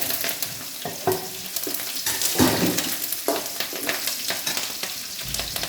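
Ginger, crushed garlic, green chilli and curry leaves fry in hot oil for a hog plum (ambazhanga) pickle. The sizzle is steady and close, with stirring scrapes and bursts of crackle throughout.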